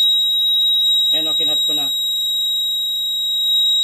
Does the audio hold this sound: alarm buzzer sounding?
yes